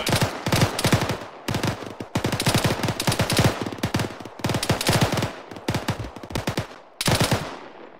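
Video game squad practice firefight, bursts of rapid machine-gun fire, loud and close, in several long strings separated by brief pauses.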